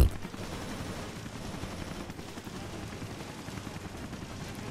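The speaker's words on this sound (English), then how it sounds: "Chris is just firing straight." Chris fires continuously in the Resident Evil Revelations video game, a dense, rapid stream of gunshots that starts with a loud first report and keeps rattling without a pause.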